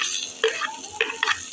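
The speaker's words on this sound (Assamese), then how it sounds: "এতিয়া মই টমেটোটো ঢালি দিছোঁ।" Chopped tomato lands in a frying pan of fried onion for a cumin raw-banana curry, giving a brief hiss and a few quick utensil scrapes and taps close by.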